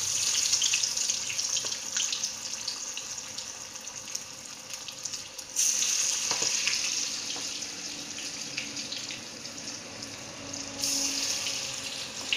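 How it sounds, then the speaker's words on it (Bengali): Winter vegetables with fenugreek leaves fry in hot mustard oil, giving a steady close sizzle that flares louder twice as more pieces go into the pan. "সর্ষের তেলেই ভাজছি, রান্নাটা পুরোটা সর্ষের তেলেই করবো।"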